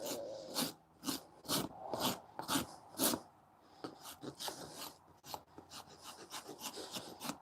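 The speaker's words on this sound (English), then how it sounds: "Switch to the other side of the rasp." A hoof rasp files a hoof during trimming in steady, close, rhythmic strokes, first slower and heavier, then quicker and lighter.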